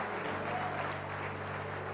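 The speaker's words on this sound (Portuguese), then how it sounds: "pode aplaudir a Jesus" A church congregation claps at a Portuguese-language family worship service, a dense and steady wash of applause over a low, humming room tone.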